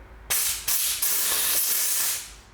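Compressed air blasts debris out of a Toyota Corolla engine part in a sharp, loud hiss, starting abruptly and broken by two short pauses before running steadily and tapering off after about two seconds.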